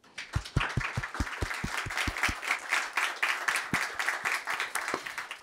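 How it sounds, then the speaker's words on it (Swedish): An audience at a Swedish panel event on the labour-market model applauds the moderator: a few sharp, close claps ring out first, then swell into steady group clapping. "En applåd!"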